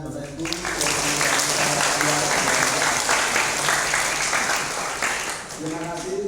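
A church congregation at a Sunday Lent service claps in sustained, dense applause that stays loud and steady throughout, with a voice speaking briefly at the start and end.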